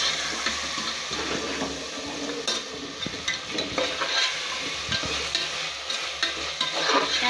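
Tomatoes sizzling in a pan with scraping stirring strokes, a continuous close crackle and hiss broken by irregular spoon clatter, no talking.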